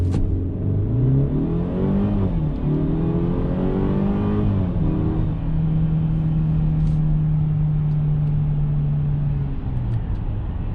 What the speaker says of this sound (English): Alright, so I'm gonna go ahead and brake boost this GLE.